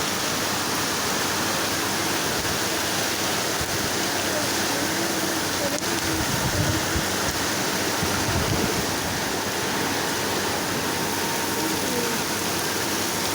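Rain pours down outdoors while people get soaked, a steady dense rush of falling water that holds an even level throughout, with faint murmurs low underneath.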